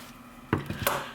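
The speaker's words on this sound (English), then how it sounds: "I got a little fuzzy sticking out here. I'm just going to trim it." Scissors trimming a stray fuzzy yarn end on a small knitted Christmas tree ornament, giving two or three quick, close snips within a second against quiet room tone.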